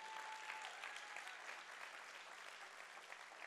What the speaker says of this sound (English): Somebody clap your hands like you hear what I'm saying.